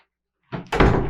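An indoor door is pushed shut nearby with a brief scrape and then a loud solid thunk, coming out of near silence.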